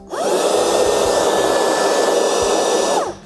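A small Dnipro-M leaf blower motor whirs up on its first speed setting, runs at a steady loud whoosh with a high whine for about three seconds, then spins down.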